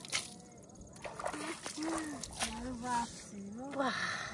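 Water poured and splashed to rinse soil off a freshly caught fish outdoors, sloshing and trickling throughout while voices talk over it nearby.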